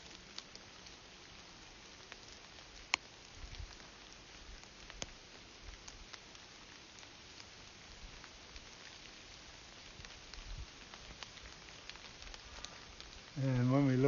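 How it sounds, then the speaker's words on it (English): Steady rain hisses and patters throughout, with occasional louder drips, before a voice briefly begins at the very end. "It's raining now."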